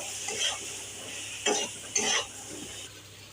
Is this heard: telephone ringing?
no